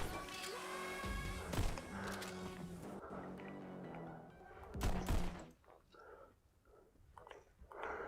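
Rapid gunfire bursts and impacts in a VR shooting game while a player dodges bullets, with dense loud popping through the first half and sparser hits afterward; no speech in the clip.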